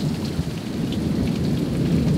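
Heavy rainstorm in Oklahoma, a dense steady hiss of rain pouring onto surfaces with low rumbling underneath, continuous and close, with no voices.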